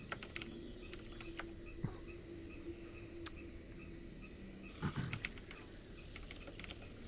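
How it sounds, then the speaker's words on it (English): Quick, irregular clicking of computer keyboard keys as someone types messages into Discord during a tabletop role-playing session, soft and close, with short pauses and a small burst of louder keystrokes near the end. "Umrak, you're supposed to be drunk, not typing all of these things into Discord"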